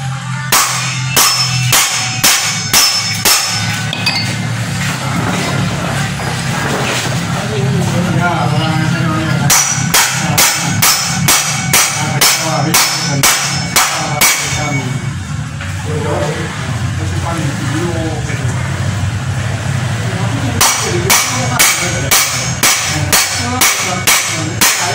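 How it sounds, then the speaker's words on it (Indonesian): Hammer blows against the stuck rear wheel axle of an automatic scooter with a wobbly rear wheel, loud sharp strikes in rapid bursts of several hits with brief pauses, close by, with someone talking in between. "diketok juga tidak mau keluar ini teman-teman"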